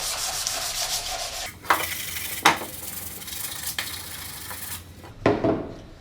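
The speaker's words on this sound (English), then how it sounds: "Make sure you sand with the grain on your final pass." A wooden toolbox being hand-sanded, with steady rubbing strokes broken by a few sharper scrapes, close and clear with no talk.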